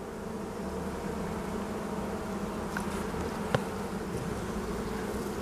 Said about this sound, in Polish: Jest masę młodych pszczół.